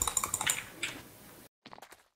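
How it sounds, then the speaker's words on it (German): A loud Logitech computer mouse clicking in a quick run of sharp taps up close, then a brief pause and a few more clicks. "was für eine Maus ist denn das, die so laut klickt? Logitech."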